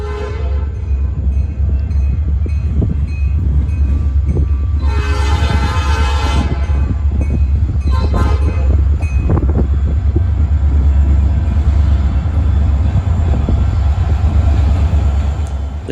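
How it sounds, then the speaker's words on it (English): A Norfolk Southern local freight hauled by a pair of SD40-2 locomotives rumbles past loudly and close, with a heavy continuous engine roar, a blaring horn, and clanking of hopper, tank and coil cars. "We're not waiting long before our first train arrives,"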